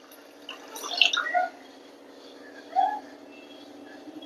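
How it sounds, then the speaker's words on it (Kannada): Water is poured into a pot while cooking sakkarai pongal, with two short splashy bursts close by and quiet between them. "ನೀರ್ ಹಾಕ್ತಾ ಇದ್ದೀನಿ."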